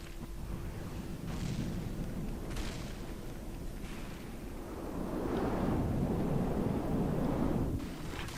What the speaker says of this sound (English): look at those big guns. When those big guns, they're wrecking it